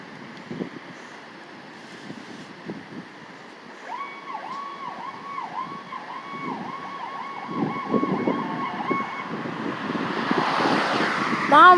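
An ambulance siren wails in repeated rising and falling sweeps at a motorcycle accident scene on a roadway. It is moderately distant and sounds for several seconds over traffic rumble and wind.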